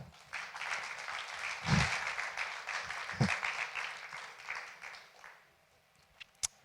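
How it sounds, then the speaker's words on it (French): A church congregation breaks into warm applause welcoming a guest speaker at a Sunday service, a dense wash of clapping that builds, holds for several seconds and fades to a few last claps. "Claudia, on peut l'applaudir"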